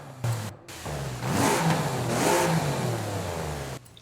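A 1400 hp Noble M400's engine in Forza Horizon 5 revs up and falls back a couple of times, a throaty exhaust growl heard up close with brief silences at the edges.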